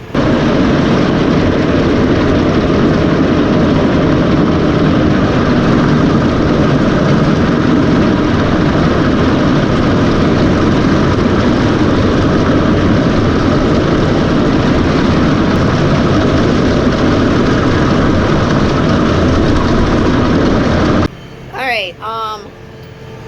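A tractor mowing a teff grass hayfield: a loud, steady engine drone runs throughout with a heavy low rumble, then cuts off near the end, leaving a brief voice.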